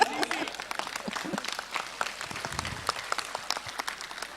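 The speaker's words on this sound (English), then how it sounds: "Claps." An audience at a youth summit during a national youth festival in Dharwad claps steadily, a dense, continuous applause of many hands filling the room.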